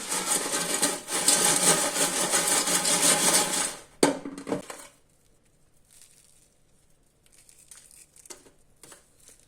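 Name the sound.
crispy air-fried chicken crunching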